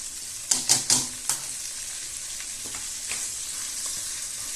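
Kangkong stems and onion are sautéed in a hot pan, with a few sharp scraping clacks of a utensil at the start, then a continuous close sizzle with light stirring.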